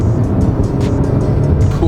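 A 2021 Kia Sorento SX Prestige X-Line with the 2.5-liter turbo, 8-speed dual-clutch transmission and all-wheel drive, accelerating hard in sport mode, a loud, rumbling low engine roar heard from inside the cabin, with brief voice sounds.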